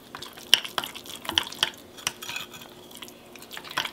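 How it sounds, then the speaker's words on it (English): A utensil scrapes and taps against a mug while vanilla extract is stirred into keto mug cake batter, giving close, irregular clinks and light scraping strokes with no talking. "we're just going to stir that until it's well combined"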